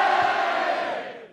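An MC battle crowd raises a loud, dense burst of cheering and shouting to judge a rap battle, a brief roar that fades away within about a second.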